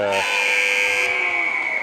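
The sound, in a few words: ice hockey buzzer ending the first period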